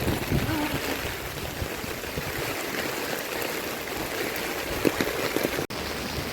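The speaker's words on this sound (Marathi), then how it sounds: "सो अजून पावसाची रिपरिप सुरूच आहे." A steady drizzle of rain falls over a waterlogged housing society, making a continuous, even hiss of water at close range with a brief sharp break near the end.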